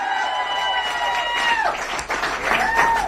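Crowd applause rises under a sustained, tonal, musical sound. The clapping thickens and swells toward the end, and a voice comes through faintly.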